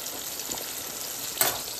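Crappie fish fry in a pan, a faint continuous sizzle and crackle with a single brief pop near the end, no voices.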